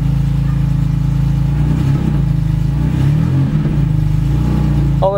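A repaired car engine runs loud and steady close by, its low rumble rising and falling through a couple of revs, with a brief higher whine near the end.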